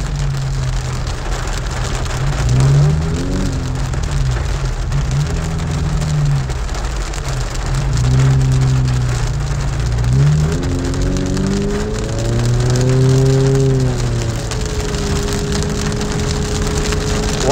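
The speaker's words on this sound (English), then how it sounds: "this is a heavy downpour" Heavy rain pours down steadily in Big Bear, California, a dense continuous hiss with low rumbling swells that rise and fall, with no talk.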